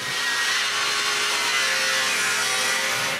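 A bandsaw rips steadily through a board for bellows, a loud, continuous broadband hiss of blade on wood held close and even for the whole stretch, with no voices.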